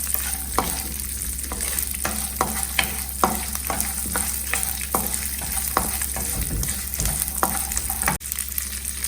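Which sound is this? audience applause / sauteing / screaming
sauteing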